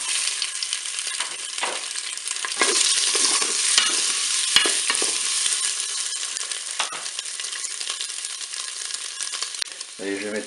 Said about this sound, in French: je vais pouvoir faire revenir mes boulettes de bœuf